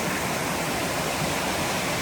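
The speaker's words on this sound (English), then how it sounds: "We got this little creek coming into out in the water." Garzas Creek flows into the Carmel River in a steady, dense rush of water, close and fairly loud, with no voices over it.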